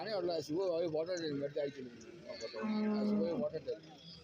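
Cattle moo at a livestock market, with a long low call standing out, while people talk nearby over a busy background.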